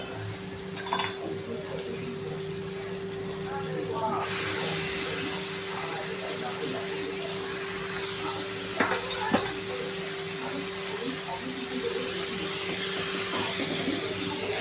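Chopped dill greens sizzle steadily in a pan of softened tomato over a high gas flame while cooking shepu bhaji, a continuous frying hiss with occasional soft clicks of stirring, no voices.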